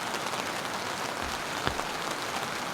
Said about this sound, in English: And it's absolutely chucking down.